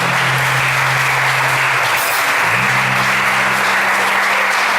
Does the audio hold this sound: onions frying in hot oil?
no